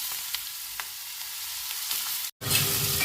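Panch phoron spices and chillies frying in hot oil in a pan for mango chutney, a steady close crackling sizzle with a few sharp pops, broken by a brief silent gap before the sizzle returns louder.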